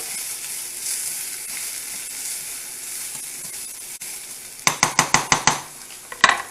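Rice toasting in a pan for veggie enchiladas gives a steady close sizzle, with a quick run of sharp stirring scrapes and clinks near the end.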